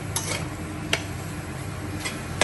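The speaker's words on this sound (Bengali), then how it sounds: "এখন দেখুন, আমি ডাকনিটা সরাচ্ছি" A metal lid comes off a cooking pot of simmering chicken with a few sharp clinks and taps over a steady low hiss of cooking.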